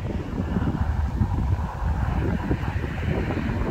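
Strong wind from a supercell storm near Voiron, Isère, roaring in a steady loud rush against the microphone with low buffeting, no voices.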